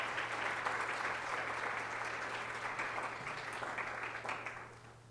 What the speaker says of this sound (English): all of us owe him a round of applause for what he's been able to do